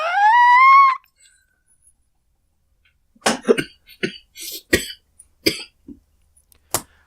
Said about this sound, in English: I can tell from that cough you've got